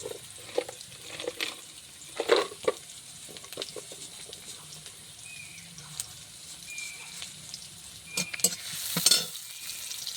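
Whole spices and cinnamon sizzle in oil in a pan while being stirred, a soft continuous frying hiss broken by scraping stirs and sharper crackles, close by, with no talk.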